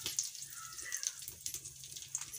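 Red chillies go into hot mustard oil with cumin for a tadka, a tempering for bathua raita, giving a soft, continuous sizzle with light crackles and pops scattered through.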